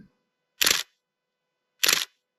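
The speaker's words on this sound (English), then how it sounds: "it has a good shutter sound" Two crisp mechanical shutter clicks from a Nikon D200 DSLR camera, evenly spaced about a second apart, close and clean against silence.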